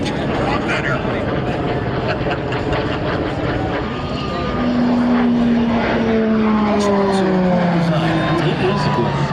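A propeller warbird flies at a military air show, its loud, steady engine roar filling the air and shifting downward in pitch as it passes, with spectators talking nearby.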